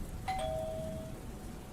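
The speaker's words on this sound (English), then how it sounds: "when the doorbell rang" A single soft doorbell tone chimes once and rings out briefly over faint background noise, fairly quiet and distant.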